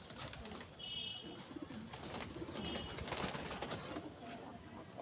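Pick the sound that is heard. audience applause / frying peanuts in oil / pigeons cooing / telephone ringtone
pigeons cooing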